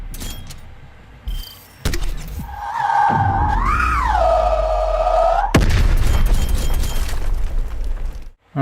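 A spawn tube fired in Black Ops Cold War, a sharp launch thump followed by a rising, wavering whoosh that holds for a few seconds before a loud burst of noise, near and prominent.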